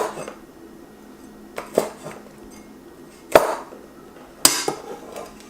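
A knife chops through a red Thai chili pepper on a board, three or four sharp, separate knocks with quiet gaps between them, close and fairly loud.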